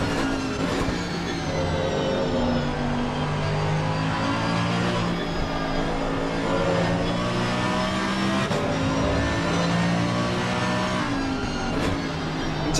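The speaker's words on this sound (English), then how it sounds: "Rather deep engine sound." Deep-toned Mercedes race car engine in a Spa-Francorchamps 24-hour race in a racing simulator, droning steadily throughout at high revs with rising and falling pitch through gear changes, loud and continuous with no talk.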